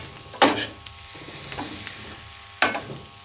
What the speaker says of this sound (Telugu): అలాగే కొంచెం కొత్తిమీర, కొంచెం పుదీనా వేసుకొని కలపాలండి.